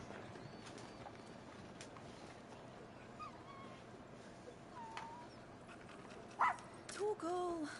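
Torgal, a dog in the video game Final Fantasy XVI, gives a few short barks and whines near the end, over a quiet ambient outdoor background with birdsong.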